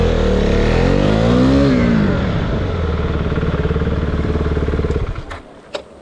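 A KTM Duke 390 motorcycle engine revs loud and close, its pitch sweeping up and back down, then settling into a rough rising idle before cutting off, leaving faint clicks.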